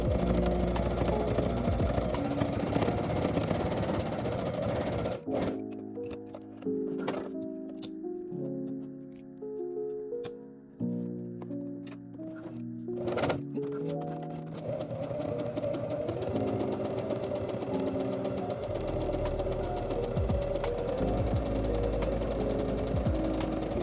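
A sewing machine top stitches along a fabric strip, a steady rapid mechanical whir that pauses midway with a few clicks and shifting hums before running continuously again to the end.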